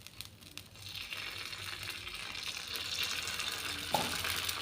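Egg dosa made with two eggs poured onto an oiled pan sizzles and crackles, the frying hiss building steadily louder and brighter, with a few light scraping clicks near the end.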